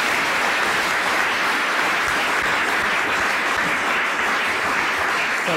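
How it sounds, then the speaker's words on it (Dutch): Sustained audience applause fills a hall after a talk by a physicist, a dense, steady wash of many hands clapping at constant loudness with no voices over it. "Nogmaals een hartelijk applaus voor Robert Dijkgraaf."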